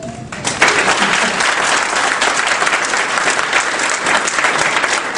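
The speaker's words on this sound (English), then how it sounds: "I'd like you to clap your hands and kind of let me know what you think" A crowd claps throughout at a Ron Paul campaign speech in Cedar Rapids, Iowa, dense, loud and sustained applause filling the room with no voices over it.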